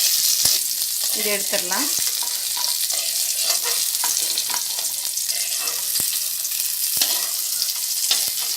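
Tomatoes frying in a pan for tomato thokku chutney, a continuous close sizzle with occasional sharp clicks of a utensil against the pan. A person speaks briefly over the cooking near the start.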